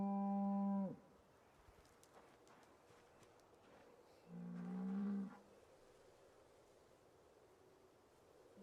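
Two cow moos from Project Zomboid, a long low bovine call at the start and a second shorter one midway, each standing out clearly over a quiet, faintly noisy game backdrop.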